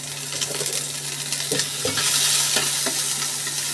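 Chopped onion and whole garlic cloves stirred and frying in a little oil, a steady sizzle under scraping spoon strokes, close and fairly loud with no talking.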